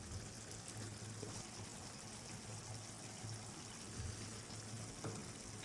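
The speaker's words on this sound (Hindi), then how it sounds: "ये देखिए ज़बरदस्त सी भुनाई चिकन की हो रही है" Chicken browning in a kadhai over a medium flame, giving a steady, faint hiss and sizzle of hot oil that runs unbroken throughout, with an occasional soft stir.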